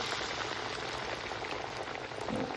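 Dough balls for potato vada deep-frying in hot oil, a steady dense sizzle and crackle filling the whole stretch, close and fairly quiet, with no talk.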